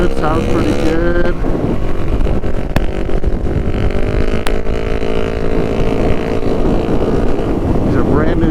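A 2006 Kawasaki Ninja 500R motorcycle on the road, on brand new tires, its engine droning loud and steady under heavy wind buffeting, pitch shifting as it changes gears, with a couple of sharp clicks.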